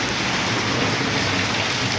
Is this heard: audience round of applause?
no